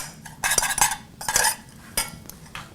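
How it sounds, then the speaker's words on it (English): A metal utensil stirs paprika into a pot, giving off several scraping, clinking strokes in uneven bursts with short quiet gaps between them, close by and fairly loud. "And then I'm going to add a little bit of paprika and stir that up."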